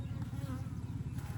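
Honeybees buzz close by in a steady, dense drone that wavers slightly in pitch, continuous throughout with no voices.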